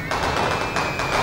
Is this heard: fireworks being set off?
yes